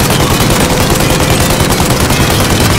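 Gunfire rattles continuously in the video game Mafia Remake: dense, loud automatic shots overlapping with no pause throughout.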